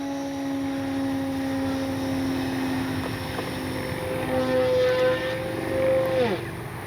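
Electric motor of an FMS Fox 3m RC glider running at full throttle in flight, a steady whining drone with a tone that holds then bends downward near the end, continuous and moderately loud outdoors.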